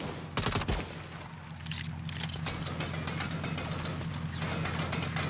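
Turret gunfire in the video game Saints Row rattles in a rapid, sustained burst beneath a low mechanical hum, opening with a heavy blast and then hammering steadily at close range.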